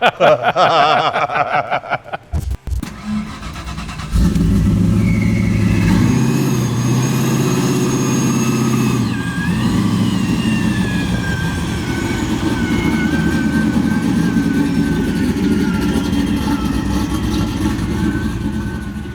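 A supercharged Boss 302 Mustang V8 cranks and catches after a short silence, then settles into a loud, steady, rumbling idle that holds for the rest of the time, with a few small rises in revs.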